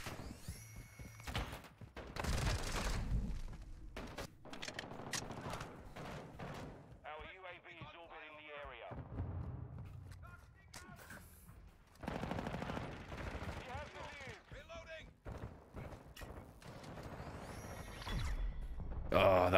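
Automatic HK rifle fire in the Modern Warfare 2 video game, heavy bursts spread across the clip and mixed with game effects and voices.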